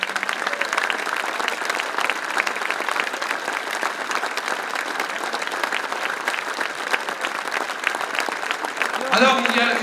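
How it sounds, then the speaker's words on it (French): A crowd applauds Prince Albert II and his family at a gathering of Grimaldi historic sites in Monaco, steady sustained clapping throughout, with a brief louder swell near the end. "j'aimerais que vous applaudissiez le Prince"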